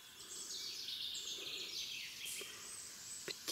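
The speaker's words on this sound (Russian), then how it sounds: "Птички радуются." Birds chirp and twitter in a forest, a faint, steady chorus of high calls at some distance that carries on throughout.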